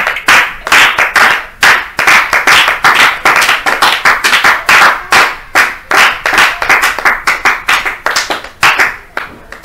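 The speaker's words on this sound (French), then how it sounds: "nous disons merci et nous acclamons encore, bien-aimés, pour notre Seigneur Jésus-Christ ce matin" A church congregation claps rhythmically in unison, loud and close, with sharp repeated hand claps blending into steady applause throughout.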